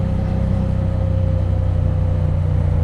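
Triumph Bonneville T100 motorcycle engine running steadily, a low, even drone with a constant hum, recorded while riding and heard alone without talk.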